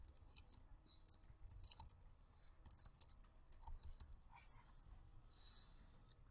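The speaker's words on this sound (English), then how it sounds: "we're going to type custom dash styles name." Soft, quick clicking of keys on a computer keyboard, faint and close, in an irregular rhythm with brief pauses.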